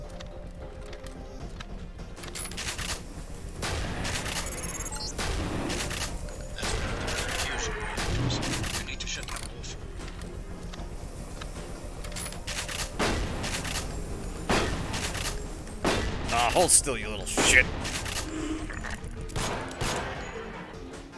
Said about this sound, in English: Great, and the Grey's shooting at me now.